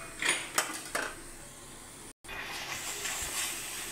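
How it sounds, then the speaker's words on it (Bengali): Spices with onion and garlic paste fry in oil in a pan, giving a steady soft sizzle and hiss, with a few clinks of a utensil against the pan near the start. "দিয়ে ভালো করে আমি মশলা কষে নেবো যতক্ষণ না তেল বেরোচ্ছে।"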